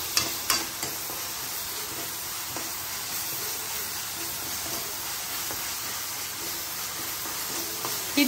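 Ingredients sauté in a pan for a prawn dish, giving a steady, close hiss and sizzle with a few faint clicks of stirring, and no talk.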